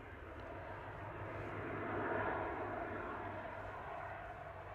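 An ATR 72-600 turboprop inbound from Guernsey approaches to land at Manchester Airport, a faint distant engine drone that swells gently toward the middle and then eases, heard alone.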